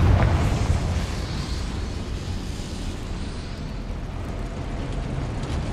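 Confringo blasting spell detonating in Hogwarts Legacy, a deep booming explosion that hits hard at first and then rumbles and fades into a lingering low roar.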